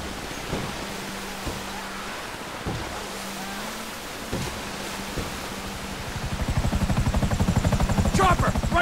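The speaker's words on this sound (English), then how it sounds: "Chopper, right behind us." A helicopter's rotor thumps in steadily in GTA 5 on PS5, growing louder near the end, beneath scattered game sounds and a low drone.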